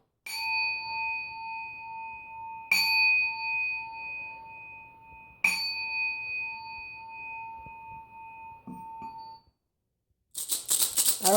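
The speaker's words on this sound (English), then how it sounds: "And so here I'm going to ring the bell." A small bell at a home altar rings three times in a slow, evenly spaced series, each bright, sustained chime fading before the next strike, followed after a pause by a brief rattling shake of shells.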